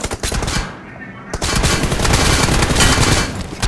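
Rapid automatic gunfire from a first-person shooter video game during a one-on-one team deathmatch, loud dense bursts of shots rattling nearly continuously with a brief pause.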